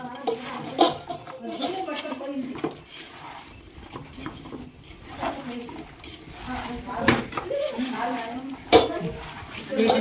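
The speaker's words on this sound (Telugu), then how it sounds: "టమాటా, అన్నీ వేసి ఇక మంచిగా కలపాలి" Tomatoes, green chillies and other ingredients stirred together in a pot, with a ladle scraping and clinking against the metal in an uneven rhythm, close and fairly loud, while voices chatter intermittently underneath.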